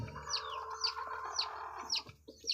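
Young chicks released to roam inside a coop, their high chirps and peeps repeating several times near and clear over a steady farmyard hum, with a few low clucks mixed in.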